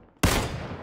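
A single loud gunshot in the video game PUBG cracks suddenly out of near silence, followed by a brief, fading echoing tail.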